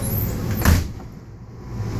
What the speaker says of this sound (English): I'm gonna close the door now.